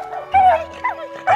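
A pit bull lets out a few short, close yipping barks and whiny cries in quick bursts, loud and near, with no talk over them.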